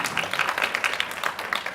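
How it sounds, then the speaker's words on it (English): An audience applauds at a talk, with steady, dense clapping from many hands at moderate loudness, with no break for the whole stretch. "whoever started to clap"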